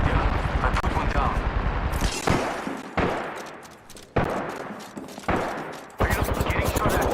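Enemy gunfire in Apex Legends crackles in repeated loud bursts: sustained automatic rattles broken by sharp, heavy shots that each trail off briefly before the next volley.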